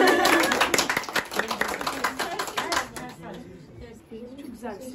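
Clapping at a home engagement ceremony, a burst of hand claps in the first three seconds that fades as people begin talking.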